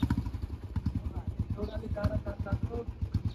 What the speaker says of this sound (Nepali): मेरो बाइक लिएर यसो घुमाउँदैछन्